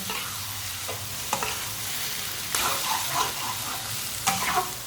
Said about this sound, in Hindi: चूल्हे की आंच को ना मैंने तेज़ किया थोड़ा सा, ताकि अंडे हमारे अच्छी तरह पक जाएं।